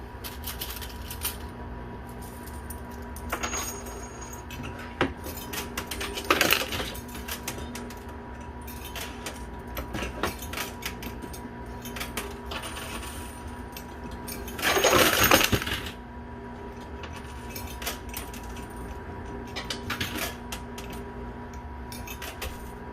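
Coins clatter and drop inside a coin pusher machine in a busy arcade, with scattered metallic clinks throughout and two louder cascades of falling coins, one short and one around the middle of the second half.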